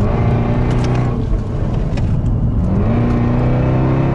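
A powerful sports car engine on a road rally roaring and revving, the pitch dipping then climbing again as it accelerates, loud and close.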